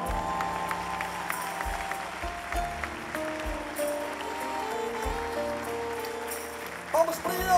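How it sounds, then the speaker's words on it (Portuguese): Festival audience at the São Brás celebration at Quinta do Gato in Minho applauds with a steady patter of clapping, while someone speaks over a PA amid tonal background sound. "Palmas para eles."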